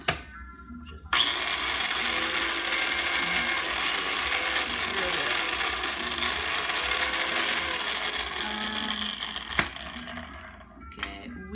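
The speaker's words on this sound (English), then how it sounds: "you're gonna just plop those in your whatever kind of mixer you got" An electric mixer whirs continuously at close range with a steady, gritty mechanical rattle, starting abruptly after a brief quiet moment and cutting out near the end with a sharp knock.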